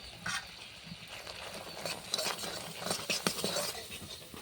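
Turmeric, garam masala and chili powder fry in a pan while being stirred, a quiet, close sizzle with irregular scraping and clinks of the utensil.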